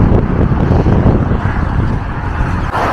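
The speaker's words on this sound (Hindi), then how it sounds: "बहुत तेज़ हवाएं हैं और बहुत ठंड हो रही है।" Strong, cold wind buffets the microphone outdoors near an old English village close to the Cotswolds, a loud continuous low rumble and roar with no voices.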